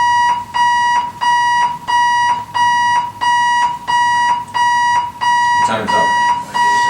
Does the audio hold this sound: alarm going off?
yes